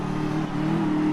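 A racing car engine in a video game revs under a pressed gas pedal, a loud steady droning hum held close and alone for about a second.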